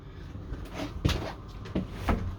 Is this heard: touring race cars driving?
no